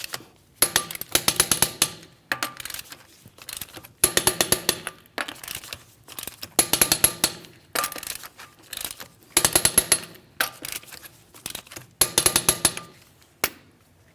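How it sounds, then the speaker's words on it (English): Lug nuts on a 2016-2025 Chevrolet Malibu wheel are tightened to 100 foot-pounds in a crisscross pattern, heard as about eight loud, close bursts of rapid metallic rattling clicks separated by short pauses, with no talking. "We're going to torque these to that 100 foot-pounds in a crisscross manner."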